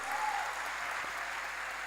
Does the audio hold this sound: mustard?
no